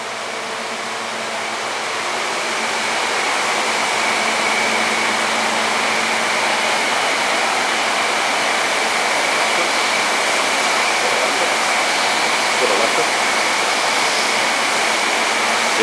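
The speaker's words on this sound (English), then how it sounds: "It is electric heat on the drum dryer." A steady, loud mechanical roar with a constant hum from an electrically heated Jessup industrial drum dryer on an automatic barrel line, running without pause.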